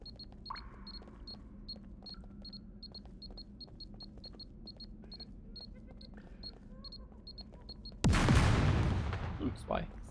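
Gunfire in the hardcore survival video game SCUM comes as one loud blast near the end, after a run of rapid clicking ticks over a steady low hum.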